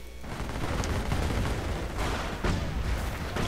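Machine gun and artillery fire from a strategy video game keep up a dense, continuous clatter of shots and booms, loud and busy throughout with no voices over it.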